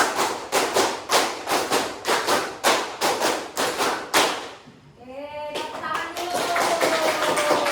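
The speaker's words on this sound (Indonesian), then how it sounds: "tepuk 2, tepuk 3, tepuk 4, tepuk 5, 3 kali tepuk 5" Children in a clapping rhythm game clap sharply and evenly in quick sets, about a dozen crisp claps close by. The claps then stop and voices follow, rising into chant-like singing.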